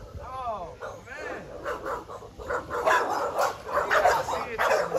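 Dogs at a yard bark and yip in quick, uneven bursts, fairly close, while people talk over them.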